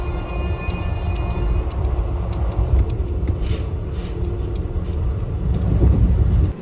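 A passenger train runs toward Mirzapur railway station, a loud, steady rumble of wheels on track with rattling carriages and occasional clicks throughout.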